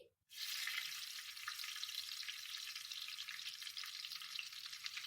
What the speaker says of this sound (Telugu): ఇప్పుడు ఆయిల్ కొంచెం హీట్ అయ్యాక 2 పచ్చిమిర్చి